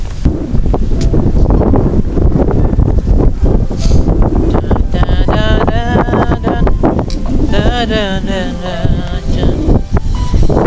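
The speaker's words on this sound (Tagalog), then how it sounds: "Ayan o, lakas naman ang hangin." Strong wind buffets the microphone in a constant loud roar, with rustling and a voice speaking underneath, beside a frozen lake in Hungary.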